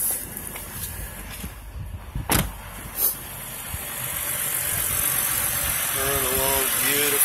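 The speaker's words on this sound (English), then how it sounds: "let's go back to the engine so you can hear how it sounds." Engine of a 2011 BMW 328i coupe idles with a steady hum and hiss that swells gradually toward the end, after a few brief knocks and clicks near the start, recorded close under the hood.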